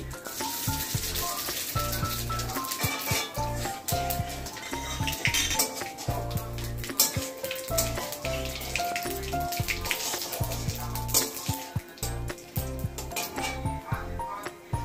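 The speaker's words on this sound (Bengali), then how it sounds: "তেজপাতা একটু ভেজে এসছে, এখন একটা আমি দিয়ে দেবো রাঁধুনি" Bay leaf and spices fry in oil in a home kitchen, with a continuous sizzle beneath frequent clinks and scrapes of metal utensils against a pan.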